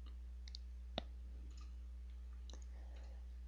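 Computer mouse clicks come through faintly while someone works in CATIA V5 CAD software. There is one sharp click, with a few softer ticks around it, over a steady low electrical hum.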